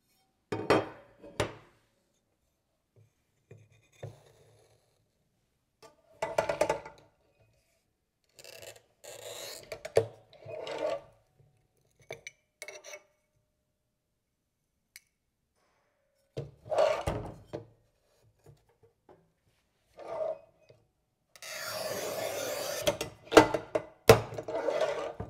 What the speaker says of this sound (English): The same rubber mat could be very useful to cut glass tile like this.